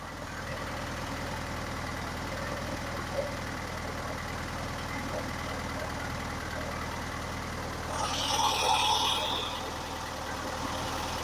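A 1963 VW Bus engine runs with a steady, even idle drone, its timing advanced to 32 degrees at 3,000 RPM. The sound stays constant, and a brief higher-pitched noise rises near the end.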